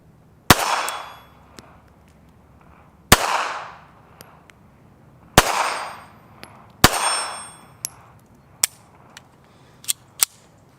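Sharp, loud pistol shots from a small S&W Sigma SW380 .380 handgun, four big cracks with ringing tails spaced a couple of seconds apart, followed by several lighter metallic clinks and pops.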